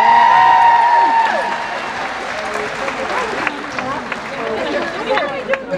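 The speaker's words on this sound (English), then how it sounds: "Do you know that deserves a round of applause on its own." Studio audience at a dance competition show applauds and cheers after a Charleston routine, a loud burst at the start settling into steady clapping and crowd noise with scattered sharp claps throughout.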